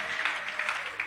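A church congregation applauding and cheering for the name of Jesus during an evening service, a steady wash of clapping and voices with a few louder swells.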